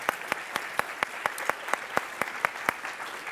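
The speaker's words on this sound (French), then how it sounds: "On les applaudit." Scattered hand claps from a small audience at a Polytechnique talk, sharp and irregular, a dozen or so quick bursts of clapping with no voices over them.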